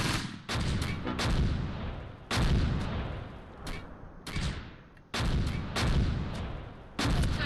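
Heavy mortar rounds in a Close Combat World War II battle at Colleville in 1944 land as a series of loud booming impacts, each a sharp blast with a decaying rumble, repeating every second or so with no talk.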